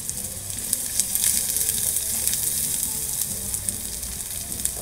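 Corned beef sautéing in a pan with garlic and onion for breakfast, a dense, steady, close sizzle with faint stirring and no voices.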